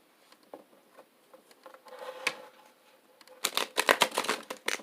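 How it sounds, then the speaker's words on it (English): A deck of tarot cards is shuffled by hand, first with soft, scattered riffles and taps, then a louder burst of quick flapping card sounds near the end. "And then a little bit more shuffling."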